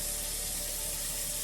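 Lukewarm tap water runs steadily from a faucet into a bathroom sink during a face-washing skincare routine, a constant close rushing hiss with no talk.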